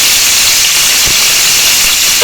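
Red chillies, green chillies and curry leaves fry in hot oil for an urad dal kadhi, giving a loud, continuous close-up sizzle with a few brief pops.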